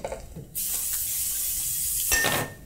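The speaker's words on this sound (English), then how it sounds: "also spray our pan with some cooking spray" Cooking spray hisses steadily onto a pan for about two seconds, close by, ending with a brief metallic clink.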